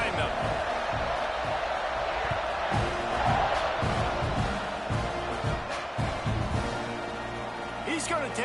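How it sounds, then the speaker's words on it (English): Stadium crowd in a college football video game, Notre Dame against Texas A&M, roaring steadily as the teams line up for a second-quarter kickoff, a dense continuous wash of cheering and yelling with a commentator talking over it. "They're set to kick it off, and this crowd now ready to get behind them."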